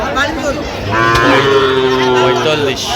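A loud, close moo from a Sahiwal bull calf at a livestock sale in Khulna-Bagerhat, Bangladesh, a long drawn-out bellow rising and falling in pitch over a low background murmur.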